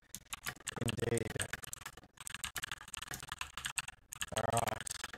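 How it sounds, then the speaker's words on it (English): Loud clicky keyboard typing comes in rapid bursts from very close, with a voice talking over part of it. "You can hear my super noisy keyboard here."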